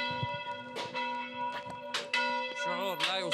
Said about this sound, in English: To ring this bell is to show our joy after the liberation of our church.